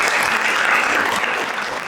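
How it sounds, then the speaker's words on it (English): Audience at a games industry conference panel breaking into steady, dense applause, loud and close throughout with a slight fade at the end, no talk over it. "This is your applause."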